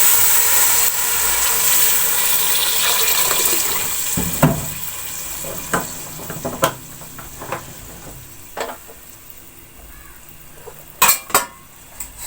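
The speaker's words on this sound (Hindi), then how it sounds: "अब इसमें 1 गिलास पानी का शामिल कर लेंगे।" A glass of water goes into a hot pan of fried potatoes and chicken for aloo chicken, bringing a rushing hiss that fades into a quieter bubbling simmer with a few scattered clinks and knocks.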